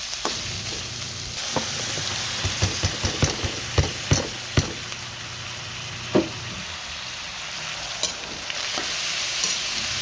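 Ground meat fries in oil with carrots and potatoes as a continuous sizzle, with sharp clacks of a utensil stirring and scraping the pan up close and no talking.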